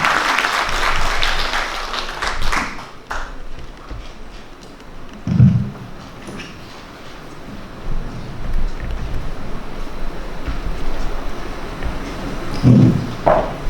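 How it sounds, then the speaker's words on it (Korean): A festival crowd at a cultural arts event in Namwon applauds to welcome a speaker, loud at first and then thinning into scattered clapping over breezy outdoor noise, with brief voices. "큰 박수로 맞아주시면 감사하겠습니다."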